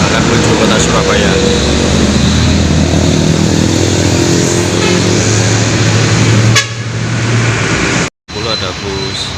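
Heavy road traffic on an Indonesian arterial route as an Eka intercity bus passes, a loud sustained low engine drone with a horn toot near the start, the roar easing off toward the end.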